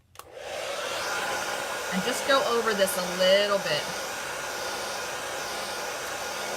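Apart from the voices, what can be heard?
hair dryer on cool setting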